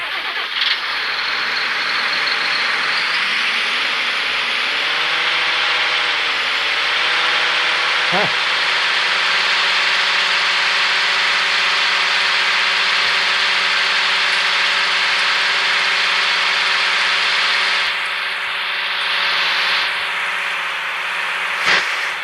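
A tractor engine in the game Farming Simulator idles steadily for a long stretch, a loud, even mechanical drone with a brief pitch dip near the start and a couple of short clicks.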